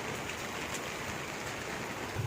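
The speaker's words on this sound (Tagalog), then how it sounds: "Biglang lumakas yung ulan." Heavy rain pours steadily in a neighborhood street, a dense, even hiss of drops hitting surfaces all around, continuous and fairly close, with no voices over it.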